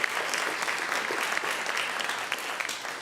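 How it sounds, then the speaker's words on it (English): Sustained applause from a church congregation during a Sunday service, many hands clapping in a continuous, fairly loud wash that tapers slightly toward the end. "And we also need to give a round of applause to Beth."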